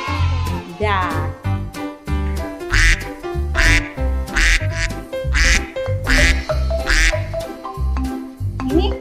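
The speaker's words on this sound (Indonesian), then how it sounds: "Duck." A duck quacks loudly and close by in a rapid series of nasal, rhythmic quacks that carry on throughout, with short pauses between bursts and no other sound competing.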